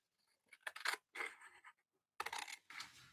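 Scissors cutting close along the edge of paper for a mixed media painting project, a few soft, close snips and crisp scraping cuts in short separate bursts, quiet and without talking.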